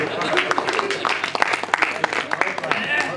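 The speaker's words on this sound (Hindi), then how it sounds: "अपने लिए ताली बजाइए, अपने लिए बजाइए।" Audience applause at a Hindi kavi sammelan poetry gathering, a steady wash of many hands clapping with scattered sharper claps throughout, fairly close and sustained.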